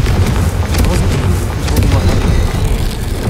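A Confringo spell from Hogwarts Legacy lands with a loud, roaring blast in the game, a dense rumbling boom that stays heavy for several seconds with crackling bursts on top.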